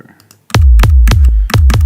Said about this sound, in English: That definitely is a trance kick.